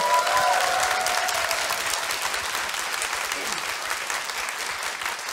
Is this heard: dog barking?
no